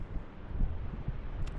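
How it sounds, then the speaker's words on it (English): Strong mountain wind at a camp in the Uintas, a continuous rumbling gusty roar buffeting the microphone up close, with no voices. "Wind is blowing like crazy, especially at camp."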